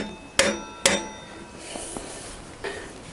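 Two sharp rubber-hammer knocks on metal in quick succession, driving out a wheel bolt on a Honda CBR1000F motorcycle, then a few quieter clinks and taps.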